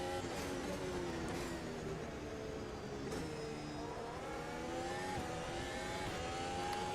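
Formula 1 race cars, including two Ferraris battling, lapping Estoril in a racing video game, engines holding a steady high whine with shifting pitch as gears change, continuous and fairly quiet throughout.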